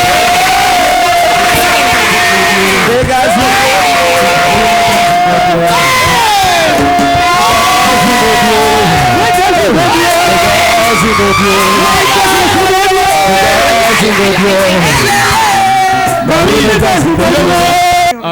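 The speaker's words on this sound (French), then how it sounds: "Acclame très fort pour Jésus." A large crowd at a French-language church testimony gathering cheers, whoops and shouts loudly and continuously in praise of Jesus, with voices overlapping throughout.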